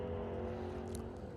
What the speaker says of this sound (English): And now you hear him turn loose,